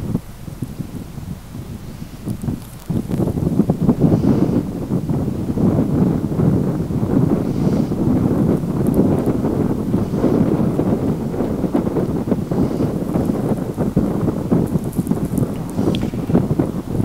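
Cold wind blowing across a beach on the north shore of Aegna island, Estonia, roaring steadily into the microphone as loud buffeting rumble for the whole stretch, stronger after the first few seconds, with no talking.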